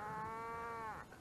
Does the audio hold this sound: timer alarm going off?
no